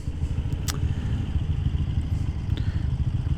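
Cruiser motorcycle passing on a highway, a steady low engine rumble mixed with road and wind noise, heard from a moving bike at moderate level.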